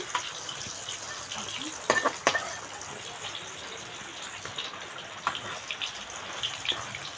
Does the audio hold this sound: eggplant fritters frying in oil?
yes